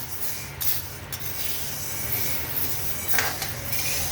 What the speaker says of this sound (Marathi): तर आपण आता हे मंद गॅसवरती याला चांगले भाजून घेऊया.